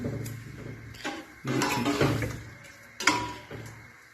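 Cooked rice stirred with a few drops of vinegar in a pan for Chinese pulao: several separate scraping, clattering spoon-and-pan bursts, close and moderately loud, with no talking.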